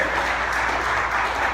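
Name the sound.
audience applause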